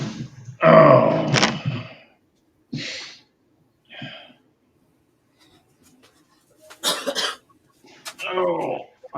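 A person coughs, with a few harsh, close bursts and throat-clearing sounds separated by short pauses of silence.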